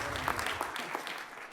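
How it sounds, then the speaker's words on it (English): Brief scattered clapping from a small audience, fading out quickly after a second. "every one of those people deserve a round of applause"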